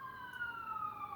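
Emergency vehicle siren wailing in a smooth, slowly falling tone, steady and moderately distant for the whole brief moment, with no one talking.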